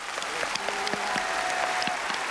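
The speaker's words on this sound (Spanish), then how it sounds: "Señor, un aplauso" Studio audience applause on a Cuban comedy show, a steady wash of clapping that fills the clip, with a sustained tone and some faint voices mixed in.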